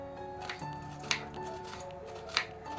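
A knife finely chopping vegetables on a board, a few sharp, well-spaced cuts ringing out over a faint background hum, close and fairly quiet.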